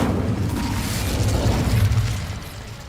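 Incendio fire spell blast in the Hogwarts Legacy video game, a loud, roaring, whooshing burst that holds steady for about two seconds and then fades out.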